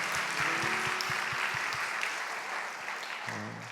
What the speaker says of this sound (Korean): 우리 그렇게 하실 하나님께 감사의 박수 올려드립시다.